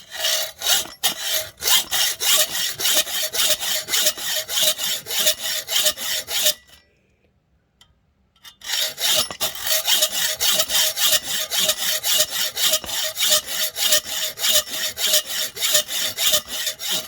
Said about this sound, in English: back with the hacksaw